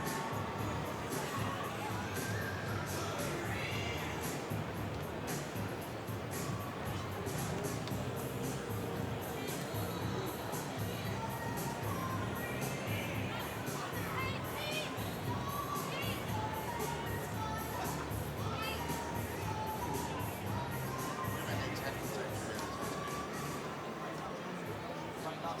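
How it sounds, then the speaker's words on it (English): A large stadium crowd at an NRL rugby league match in Newcastle roars steadily throughout, a dense, distant wash of cheering and shouting with no break. "Big crowd in Newcastle."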